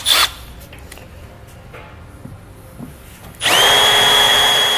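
A small bit drills out a plastic fascia rivet during a trailer hitch install on a 2015 BMW X5: a brief loud whir at the start, a quiet stretch of faint clicks, then a sustained high-pitched drill whine for the final second and a half.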